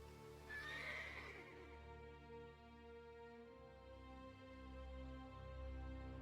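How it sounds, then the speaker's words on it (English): A horse in the video game Elder Scrolls Online gives a loud whinny near the start, then settles under a low droning game soundscape with soft hoof sounds. "It's a pretty horse."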